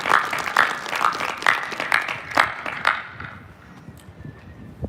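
Applause for the cadets at a military college honors parade, an uneven outdoor patter of clapping with distinct regular claps standing out, tapering off to near quiet.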